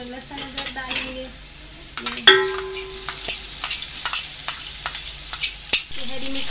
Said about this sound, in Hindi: ये प्याज हल्की हल्की लाल हो गई है, तो इसमें जो है हम अब लहसुन अदरक डालेंगे